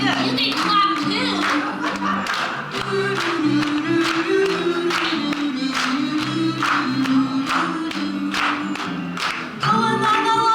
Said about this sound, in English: You can clap too.